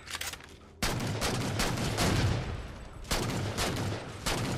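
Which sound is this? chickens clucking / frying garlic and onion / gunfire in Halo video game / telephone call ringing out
gunfire in Halo video game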